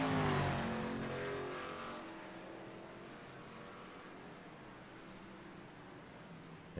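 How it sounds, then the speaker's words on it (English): Race car engine at Watkins Glen droning through the bus stop chicane, a loud harmonic whine at the start that eases into a steadier, quieter hum over a broadband rush. "Sounds like his engine's still running"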